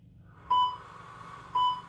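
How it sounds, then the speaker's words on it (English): Two short electronic workout-timer beeps, about a second apart, sound clearly over a quiet background. "And there's the beeps."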